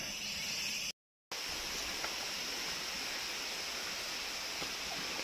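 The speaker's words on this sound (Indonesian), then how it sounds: "Dan ini baru di atas air terjun." A waterfall on a misty mountain trail pours in a steady, broad hiss of rushing water, continuous and fairly distant, with a brief cut of silence near the start.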